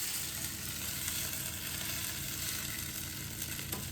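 Buckwheat pierogi fry in butter in a pan, a steady, close sizzle and crackle hissing continuously without any voices.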